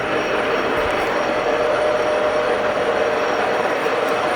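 A Mighty Turn ML-2160-GL gap-bed lathe with a 3 1/8 inch spindle bore running at 630 RPM gives a loud, steady, even mechanical hum that holds unchanged from start to finish, with no voices.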